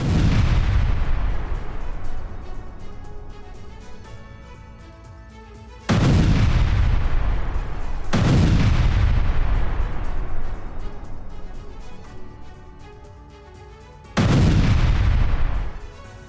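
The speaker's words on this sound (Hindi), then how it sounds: "आईडीएफ ने स्कूल बिल्डिंग को आईडी से तबाह किया।" Repeated powerful explosions from a school building being destroyed with IEDs in southern Gaza, each a sudden loud boom with a long rumbling decay, three big blasts spaced several seconds apart and no voices.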